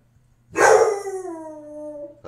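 Dog gives one loud, close howl that starts with a sharp bark-like onset and then glides down in pitch over about two seconds before stopping.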